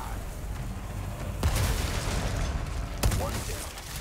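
Rapid gunfire in Resident Evil 4 Remake, with two sharp heavy shots standing out above a dense, noisy game backdrop of rumble and hiss, close and loud.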